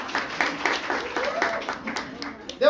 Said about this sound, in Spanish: un aplauso para Débora.